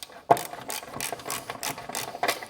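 A small ratchet works on bolts holding the front bumper of an MG ZS 180, giving a series of quick, close clicks in a loose rhythm after one sharp initial knock.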